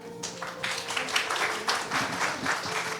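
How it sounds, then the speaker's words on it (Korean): Steady applause from the audience at an energy policy seminar welcomes a presenter, moderately loud, even claps carrying over a low constant hum in the room. "여러분 큰 박수 부탁드리겠습니다"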